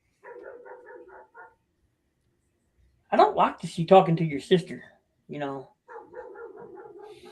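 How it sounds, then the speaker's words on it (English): A dog gives quick repeated barks in short bursts at the start and again at the end, with people talking in between. "my dog's going. Somebody needs to control their dog."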